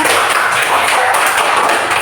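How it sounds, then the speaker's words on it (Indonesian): A class of fifth-grade pupils claps together in a classroom, a dense, even patter of many hands lasting about two seconds, with no talking over it. "ini tepuk tangan untuk kelas 5"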